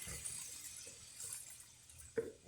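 Water poured into a cooking pot for brown stew chicken, a quiet steady stream running for a couple of seconds, ending with a small clink of the pot.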